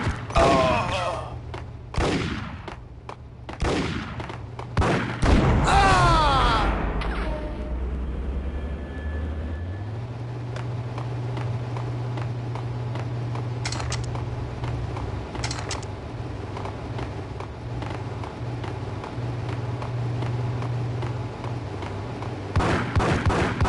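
Gunfire in the action shooter Max Payne, loud rapid shots and bursts in the first few seconds, then a low steady drone with scattered sharp cracks and a final flurry of shots near the end.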